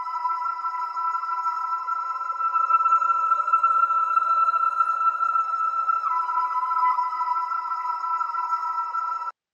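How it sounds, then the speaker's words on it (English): Creepy, chilling ambient synth pad with a cold digital edge, steady sustained tones holding a mid-range drone and faint high shimmer, a slight pitch shift partway through, moderately loud and continuous with no voices. "Then I added this like kind of chilling ambient pad."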